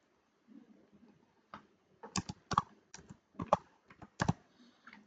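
Typing a name on a computer keyboard gives quick, close, crisp key clicks in small irregular clusters, fairly quiet with short pauses between bursts.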